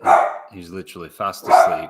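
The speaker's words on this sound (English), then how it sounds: "So sorry, that's the dog there." A pet dog gives a few short, sharp barks and yips after waking himself up, close by, with someone talking over and between the barks.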